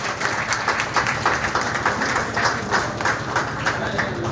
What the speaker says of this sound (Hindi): जोरदार तालियां और बधाई सर को।